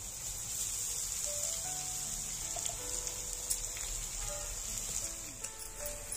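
Garlic frying in a pan on a gas stove, a steady, close sizzle with fine crackling that runs throughout, no voices.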